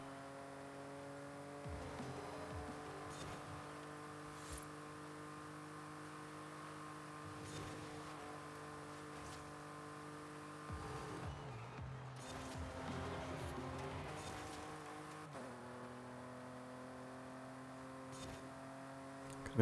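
Steady car engine drone while driving in the video game Forza Horizon 5, holding a sustained tone with pitch shifts between gears around the middle, close and continuous without talk.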